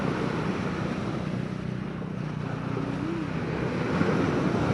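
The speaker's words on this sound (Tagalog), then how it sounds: "ito po ay pag ganitong malakas yung alon" Strong sea waves roll onto a beach in a steady, roaring wash, mixed with low wind rumble on the microphone, continuous and fairly loud with no voices.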